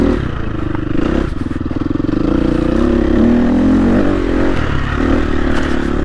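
A Husqvarna dirt bike engine, a 350 FE or 400 RSR, revs and pulls while riding, loud and close with a rough throbbing tone, shifting pitch and clattering mechanical noise.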